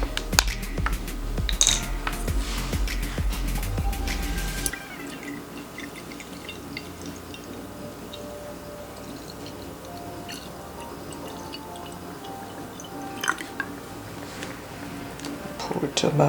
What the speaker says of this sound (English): And then I'm gonna pour some bottled water